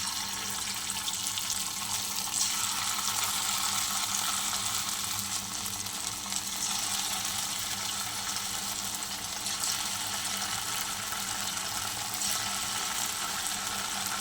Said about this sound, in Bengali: চলো পকোড়াগুলো ভেজে